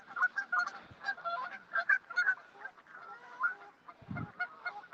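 Canada geese on a lake at sunset honk repeatedly in overlapping calls, a busy nearby chorus of nasal honks with a short low rumble partway through.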